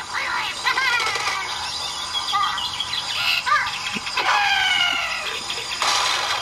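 Cartoon bird chirps and tweets from a mobile video game, a busy run of short, bright synthetic calls and sweeping whistles over a steady electronic background, with quick effect sounds layered on top.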